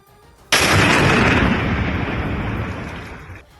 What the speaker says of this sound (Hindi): वहां एक जोरदार धमाका हुआ।